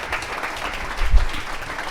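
An audience at a summit with a state governor applauds a panel of education leaders, a dense, even roar of clapping for about two seconds that swells slightly midway.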